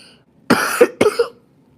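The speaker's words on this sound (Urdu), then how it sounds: "تھوڑی کھانسی اور زکام ہو گیا تھا" Two sharp, close coughs in quick succession, loud and dry, with quiet around them.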